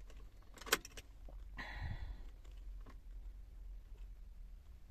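Keys jangle up close in a cold camper van before starting, followed by a brief mechanical whir and faint shuffling in a quiet cab.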